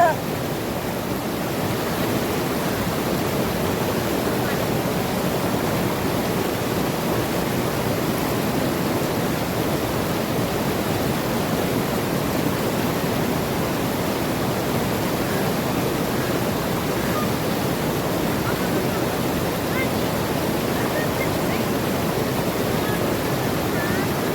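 Water rushes outdoors in a natural setting, a loud, unbroken roar holding steady from start to finish without a pause.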